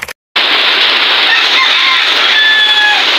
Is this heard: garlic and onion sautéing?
no